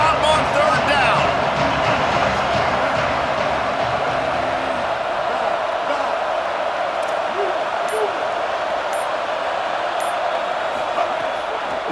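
Steady roar of a stadium crowd cheering in a college football video game, a broad, constant wash of noise at an Auburn home game, with a commentator talking over it throughout.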